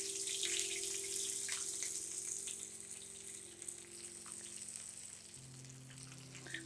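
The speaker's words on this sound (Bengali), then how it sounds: "এখানে পানি দিচ্ছি আধা কাপ" Half a cup of water poured into a pan of frying garlic potato, a quiet hissing sizzle and splashing that settles into a steady low simmer, with a faint hum in the background and no talking.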